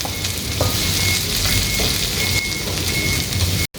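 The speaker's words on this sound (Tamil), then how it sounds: "இந்த வெங்காயத்தை போட்டு நல்லா ஃப்ரை பண்ணுங்கள்." Sliced onions fry in a pan for Indo-Chinese dragon chicken, making a loud, dense, continuous sizzle heard up close, rainlike and unbroken, cutting out abruptly for a split second near the end.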